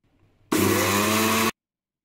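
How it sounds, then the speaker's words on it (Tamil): A kitchen mixer grinder blends soaked basmati rice with water, a loud, steady whirring roar lasting about a second that starts and stops abruptly, with near silence before and after. "இப்போ இதை நல்லா கிரைண்ட் பண்ணிக்கிறேனே"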